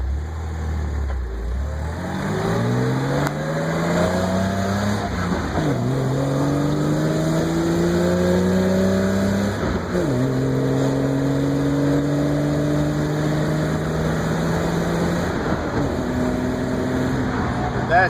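A 1986 BMW 325e with a six-cylinder engine and five-speed gearbox pulls steadily through several gears, its engine note rising in long sweeps between shifts, heard from inside the cabin over constant road and wind noise.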